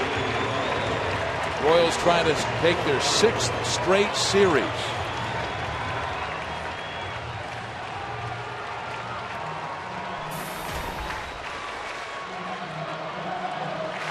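A Kansas City baseball stadium crowd applauds and cheers at a 2013 Royals game against Minnesota, a steady distant roar with louder bursts early on, under a play-by-play commentator's talk.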